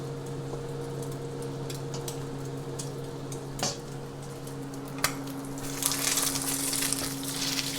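Egg frying in a pan alongside a pork stir-fry, a steady close sizzle over a constant hum, with a few sharp ticks and a brighter hiss swelling near the end as the egg is flipped.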